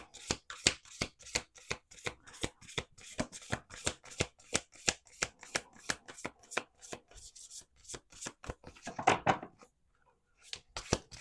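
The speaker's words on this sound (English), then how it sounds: "Okay, 2 more shuffles." Rapid rhythmic snapping of playing cards being riffled and shuffled, close up, in repeated bursts with a short pause near the end.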